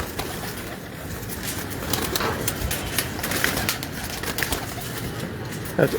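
Breeder pigeons cooing in their loft, a dense continuous murmur of soft calls with scattered wing flutters, fairly close and steady, with no voices.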